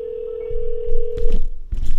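A phone line carries a steady, clean dial tone, heard up close before a sales call. Bursts of handling or line noise break in partway through, and no one speaks.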